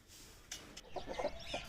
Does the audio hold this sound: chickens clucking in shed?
yes